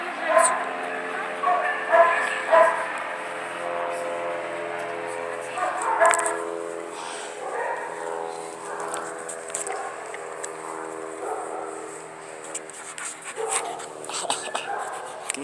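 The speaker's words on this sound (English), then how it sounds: "Oh, you're a good dog" A shelter dog out on a walk with a volunteer gives a few short barks and yips, then pants and whimpers close by while someone talks warmly to it throughout.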